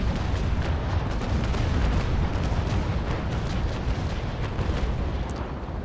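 Heavy ship cannons firing a long broadside in the naval video game Naval Action, a dense continuous rumble of overlapping booms that stays loud throughout the clip.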